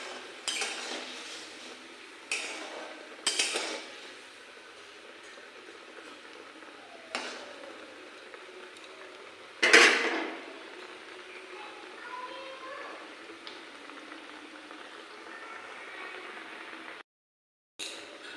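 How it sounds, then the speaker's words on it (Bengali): Fried eggplant being stirred in a pan of mustard sauce, with a few scattered utensil scrapes and clinks against the pan, close and moderate, one louder knock near the middle, and no talk. "এবার ভালো করে এটাকে নেড়ে দেবো।"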